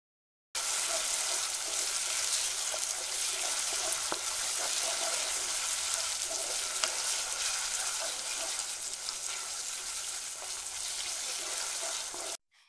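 Cinnamon, cardamom and cloves frying in hot oil for a duck curry, a dense steady sizzle with faint crackles, close and continuous throughout.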